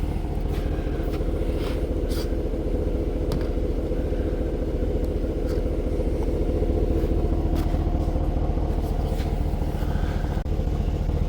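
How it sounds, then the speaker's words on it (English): A Ram 1500 DT pickup idling through a Flowmaster dual mode muffler, a steady low rumbling drone with no revving, close and continuous throughout with faint background clicks. "So at idle, I don't think the decibels are going to change much."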